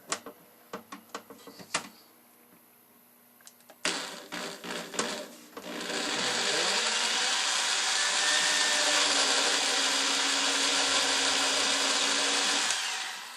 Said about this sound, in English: So I go ahead and I'm going to go ahead and drill my hole in.